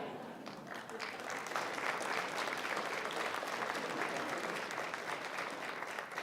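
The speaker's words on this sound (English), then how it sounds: "Please join me in one more round of applause" A large crowd at a graduate commencement ceremony gives a sustained, dense round of applause that swells quickly and holds steady for several seconds, heard from a distance in a big hall.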